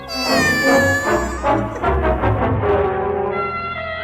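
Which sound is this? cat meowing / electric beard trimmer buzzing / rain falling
cat meowing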